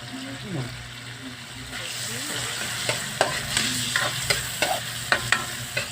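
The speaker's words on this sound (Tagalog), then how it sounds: "first magtunaw tayo ng star margarine. Magluto tayo ng crab or wing-wing" Crab, or wing-wing, cooking in melted Star margarine, a steady close sizzle with a spatula scraping in quick repeated strokes through the second half, and a voice briefly audible early on.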